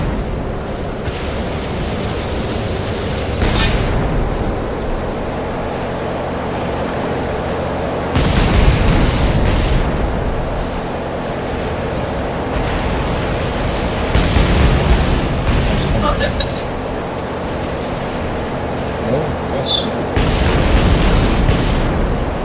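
Heavy booms and rumbling blasts from a sinking warship in the naval combat game Battlestations, arriving in several loud bursts over a constant sea-like roar.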